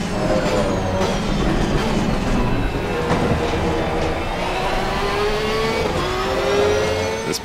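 Porsche race car in Assetto Corsa Competizione on the Valencia circuit, engine loud and steady as it climbs through the revs, with rising whine and road noise throughout and no talk.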